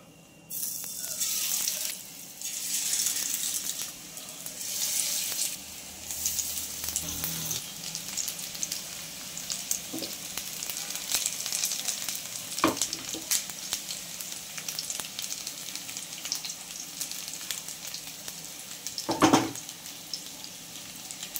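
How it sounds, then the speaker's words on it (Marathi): Fish sizzling as it fries in hot oil, a steady broad crackle throughout with occasional louder spits and stirring clatter, close and fairly quiet. "आता आपण फिश फ्राय करायला टाकूया"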